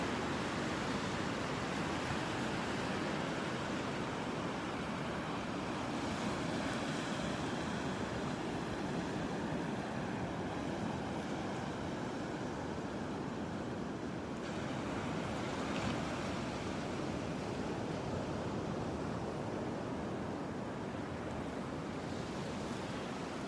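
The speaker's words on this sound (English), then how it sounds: "We had some pretty good waves yesterday, and again this morning." Churned-up ocean surf breaking steadily on a beach, a constant broadband roar of crashing waves and spray with some wind rumble, continuous and loud throughout with no voices.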